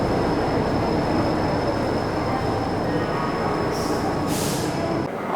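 The Poorva Express stands at a busy railway station under a constant loud rumble of rail traffic and engine hum, with a faint high whine and a couple of brief hissing bursts near the end.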